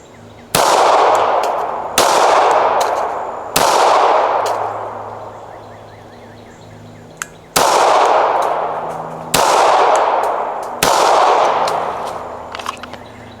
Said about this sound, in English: Run them again, 6 shots.